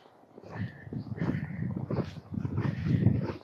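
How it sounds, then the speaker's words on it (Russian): A dog whimpers and whines softly at a moderate distance, in a steady run of low, muffled cries with some faint background noise. "Собачка такая вон там."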